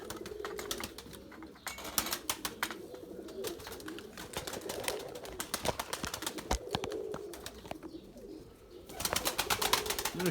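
Erzurum white pigeons coo in soft, repeated low calls over a busy crackle of fluttering and scratching, continuous throughout, with no talking.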